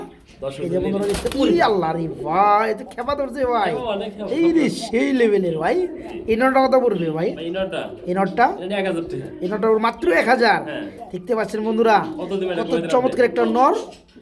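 A single yellow Bombay pigeon, a male, coos steadily and repeatedly at close range while people talk over it throughout.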